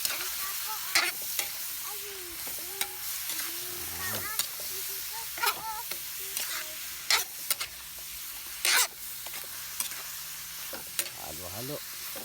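Meat stirred into browned garlic and onion in a pan for caldereta, sizzling steadily with repeated scraping and clinks of the utensil, a voice briefly heard over it.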